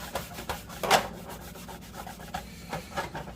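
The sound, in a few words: towel rubbing oil into cast iron pan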